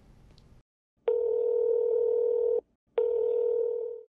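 A telephone handset makes a call, giving two long steady tones, each roughly one and a half seconds, separated by a short silence. The tones are clear, close and loud, with no talk.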